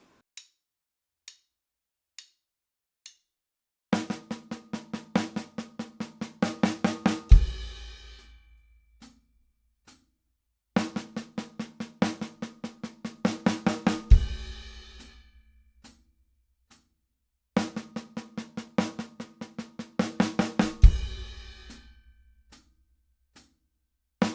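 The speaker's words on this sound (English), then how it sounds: "if I were to play a single accented paradiddle-diddle as 16th notes" A drum kit plays a one-measure sixteenth-note single accented paradiddle-diddle fill three times, each opened by sparse clicks, building to a crash with a low booming hit.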